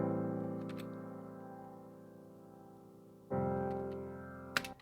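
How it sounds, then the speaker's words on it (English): Regular saw wave synth run through a vocoder driven by a piano, producing a buzzy, sustained chord that slowly fades, then a fresh, louder chord swells in near the end, with a faint click at the close. "there's a synth going through the vocoder. It's just a regular like saw wave synth"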